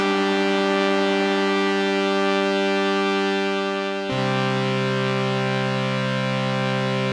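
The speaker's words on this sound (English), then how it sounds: "So it looks like a chorus effect." Sustained synth chord run through a chorus effect on the MPC AIR Ether and Sprite multi-effects, a steady bright harmonic tone that shifts to a new chord midway and plays loud and alone.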